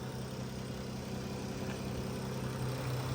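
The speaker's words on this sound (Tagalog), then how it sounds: "Ayan, tahimik na ng makina at wala nang kakalog-kalog." A Dodge Caravan engine idling steadily after a misfire repair with a new oxygen sensor and spark plugs, a constant low hum with no knocking, close and unbroken.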